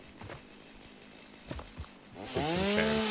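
A chainsaw in the video game Satisfactory starts buzzing loudly near the end while cutting foliage, following a few quiet clicks and footsteps.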